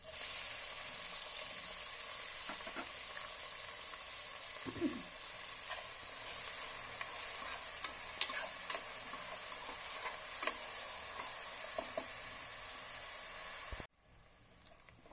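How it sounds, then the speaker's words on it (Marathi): Onion sautéing in a pan for poha, a steady faint sizzle with occasional soft spoon taps and scrapes, quiet and even, cutting off abruptly near the end. "आता आपण हा कांदा यामध्ये टाकून देऊया"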